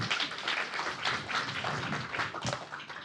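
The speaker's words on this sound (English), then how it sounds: "Can we give a big round of applause," An audience at an EducationUSA pre-departure orientation claps together, with bursts of applause swelling and fading across a few seconds.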